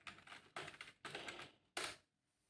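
Rapid keystrokes on a computer keyboard as a search term is entered on a hacking tutorial, coming in four quick bursts of clattering taps with short gaps, close and fairly quiet, no voices.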